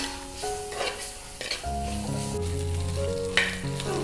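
Onion, crushed ginger, garlic and curry leaves sauté in a pan for an okra egg roast, with close sizzling under tonal clatter from stirring and a few sharp scrapes. There is no talking.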